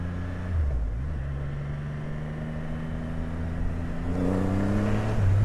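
A 2020 Triumph Rocket 3 GT motorcycle engine accelerates up close with a steady, deep rising drone and a gear change near the start, then pulls harder and louder toward the end, with no talk.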